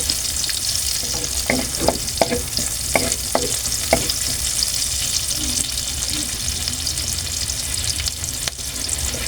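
Chopped onions sizzle and fry in a pan for an adobong tokwa, kangkong and giniling dish, with a steady broadband hiss and a run of sharp utensil scrapes and clicks early on, no talking.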